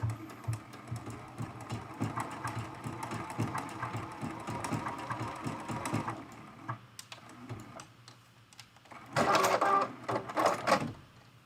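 A Juki HZL-F600 sewing machine runs a decorative stitch on a quilted mug rug, giving a steady, rapid mechanical whir for about six seconds, then a pause and a second short, louder burst of stitching.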